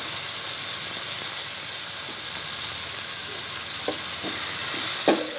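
Carrots frying in a hot pan give a steady bright sizzle, with a few sharp scrapes of a stirring utensil toward the end, close and continuous.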